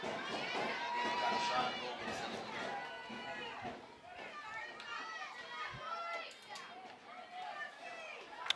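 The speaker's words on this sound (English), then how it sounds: "And the crowd getting into it." Crowd of spectators at a boys varsity lacrosse game, Darien versus Wilton, with excited children's voices and chatter rising and falling steadily throughout, fairly close and lively, with no sharp cheering peaks.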